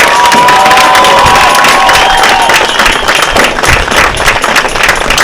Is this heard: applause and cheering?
yes